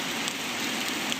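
Heavy rain pours on the Sabarimala traditional path near the Karimala summit, a dense, even hiss of drops with a few sharper patters, steady and close throughout.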